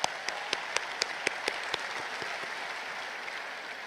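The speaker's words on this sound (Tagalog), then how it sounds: "Pumalakpak tayo gaya ng pagmamahal sa Poong Nazareno." Congregation at a Nazareno 2026 homily before the Traslacion claps in unison, about eight sharp, evenly spaced claps, then the rhythm dissolves into a softer, scattered, reverberant wash of applause in a large space.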